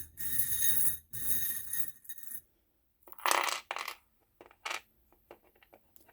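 Fortune-telling charms are cast and land with a few sharp metallic clinks and rattles, close and fairly quiet, in separate bursts separated by silence.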